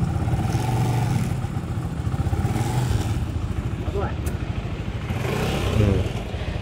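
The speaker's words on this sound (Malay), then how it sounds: "Dia masa lepas throttle kan, dia akan bunyi macam tak tak tak tak tak tak tak." A Modenas ZGT motorcycle engine idles close by with a rapid, steady ticking clatter after throttle release, a developing fault, while someone talks over it.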